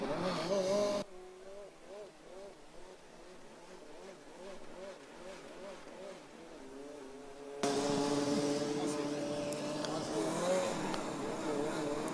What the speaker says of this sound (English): the throttle is sounding a little bit more jumpy than we heard before on the straights